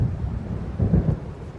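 Deep thunder rolls through a storm moving in during the video game Alan Wake, a low, loud rumble that swells briefly in the middle, with no voices.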